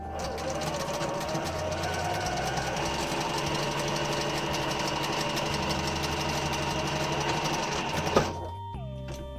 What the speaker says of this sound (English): Now I'm going to go over to the sewing machine and top stitch that.